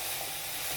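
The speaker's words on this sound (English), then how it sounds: "with the spoon or spatula, just break them into small pieces." Mutton mince fries in a pan, giving a brief, steady close sizzle and hiss as a spoon or spatula breaks it up, with no talking.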